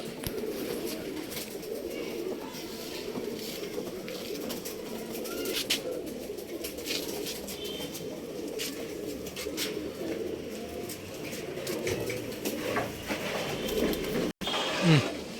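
Giribaz pigeons kept for sale in Bangalore's RT Nagar coo in a low, continuous rolling murmur, several birds overlapping close by with no voices.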